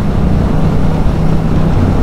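A Yamaha MT-07 motorcycle engine gives a loud, steady, low drone under throttle, mixed with rushing wind noise, and carries on unbroken with no distinct rise or fall in revs.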